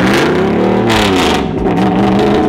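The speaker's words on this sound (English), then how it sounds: "We'll just hear the exhaust from afar." Loud V8 engine roar with rising, harmonic-rich exhaust tones as an LS2-swapped BMW E46 revs hard under load, heard from a distance, sustained throughout without voices.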